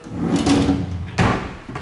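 A large drawer beneath a kitchen counter with a twin stainless steel sink slides open and shut, two close rolling slides with a soft bump at the end of each, no voices.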